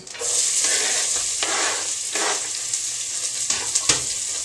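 Onion sautéing in vegetable oil for a vegetarian chili gives a loud, steady, close hiss of frying that runs throughout, broken by a few brief stirring scrapes.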